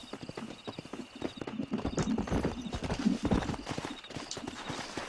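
Horse hooves clip-clop steadily in Red Dead Redemption, a near, continuous galloping rhythm with faint game ambience and no talk over it.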